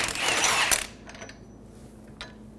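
A 36 mm socket on a wrench breaks loose the front axle nut on a 2003-2008 Honda Pilot during a wheel bearing job, with a loud grinding rush for under a second before it fades to faint mechanical clicks.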